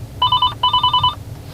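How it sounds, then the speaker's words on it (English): Phone call ringing through the speakers of a Uconnect 6.5 car radio: two loud electronic trilling bursts in quick succession, close and clear. "As you can see, it's ringing on my phone and is also ringing through my speakers as well"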